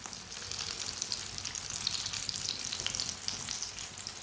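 Chicken and pea crispy kebabs frying in a pan, a steady bright sizzle holding at an even level throughout, close and alone with no voices.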